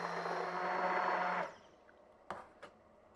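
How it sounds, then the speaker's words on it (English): A stick blender whirs steadily while blending a tomato sauce with roasted garlic, a loud continuous motor drone that stops abruptly after about a second and a half, followed by a couple of short clacks. "And a stick blender will make this smooth quickly."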